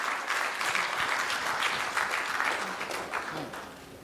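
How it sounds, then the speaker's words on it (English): Steady applause from an audience at an installation ceremony, dense clapping holding at a constant level for about four seconds before easing slightly at the end. "a big round of applause"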